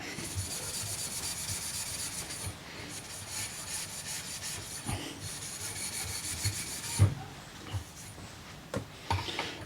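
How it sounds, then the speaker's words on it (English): A Scotch-Brite pad scrubs bare metal clean on a VW barndoor single-cab chassis before painting. Close, irregular rasping strokes rise and fall, with a few sharper scuffs near the end. "make sure the metal's nice and clean. A little bit of Scotch-Brite"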